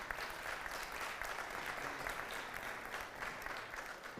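An audience gives sustained applause at the opening ceremony of the World Trade Centers Association's 53rd General Assembly. The even wash of many hands clapping sounds somewhat distant and fairly soft, and it continues for about four seconds without pause.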